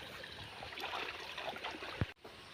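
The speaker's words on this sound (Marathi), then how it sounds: "वाहते पाणी कधीही स्वच्छ" Flowing stream water outdoors on a rainy day, a steady, soft broadband rush with one brief low thump near the end.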